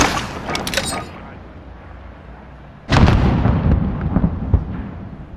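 A spawn tube fired in the video game Modern Warfare on the Azhir Cave map: a short burst near the start, then a sudden loud launch blast with a rumbling tail, close and heavy.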